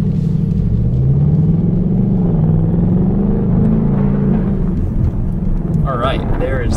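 A Volkswagen Golf R and a Ford Mustang roll side by side at the start of a drag race, their engines a low, steady droning rumble that rises slightly in pitch, with people talking over it.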